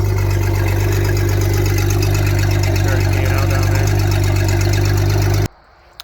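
Inboard engine of a Wellcraft boat running steadily during winterizing, a loud continuous rumble with a low hum that holds for over five seconds, then cuts off abruptly into near silence.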